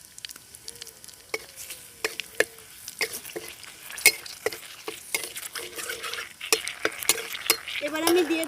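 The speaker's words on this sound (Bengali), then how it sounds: "ফোড়নে দিয়ে দেবো প্রথমে হিং, দিয়ে দেবো গোটা জিরে, আর এখানে আমি নিয়ে নিয়েছি 3টে শুকনো লঙ্কা আর তেজপাতা" Asafoetida, whole cumin, three dried red chillies and bay leaves crackling in hot oil for a Bengali fish dish, a close sizzle broken by frequent sharp pops and spoon clicks, growing denser toward the end, no talk.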